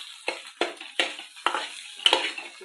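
Egg mixture with red chilli powder frying in oil in a pan, with repeated sharp scraping stirs against the pan about every half second over a soft continuous sizzle, close and fairly loud.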